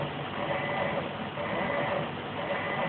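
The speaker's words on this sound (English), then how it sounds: "It's now currently printing the mandrel piece, 6 of corner brackets" A Delta RepRap-style 3D printer running a print of a mandrel piece and corner brackets gives off a continuous whirring stepper-motor hum with faint tonal whines, steady and close, with no talking.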